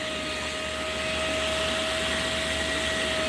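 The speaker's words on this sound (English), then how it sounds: "This is our new Hoover." A Hoover vacuum cleaner runs steadily and loudly throughout, with a constant whine and broadband motor roar, with no talking.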